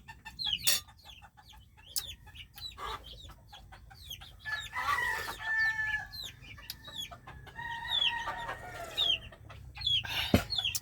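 Several roosters crow repeatedly at around 6 in the morning, some close and some farther off, mixed with scattered clucking from other birds.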